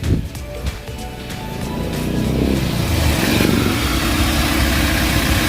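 A Toyota Altis with a hard-starting fault, caused by a failed fuel filter, runs after being started. The engine idles loud and close, with early uneven ticking that settles into a steady rising hum.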